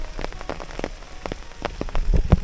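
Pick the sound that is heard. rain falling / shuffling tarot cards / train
rain falling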